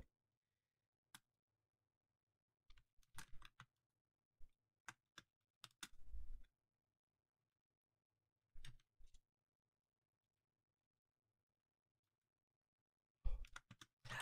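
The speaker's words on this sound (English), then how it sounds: "These values I'm typing in right now for chat for you" Quiet keyboard typing in sparse bursts, with single taps and short clattering runs separated by long silences, close and soft.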